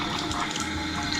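Water runs steadily from a newly installed bathroom sink faucet, a continuous close rush of flow into the basin with no voices.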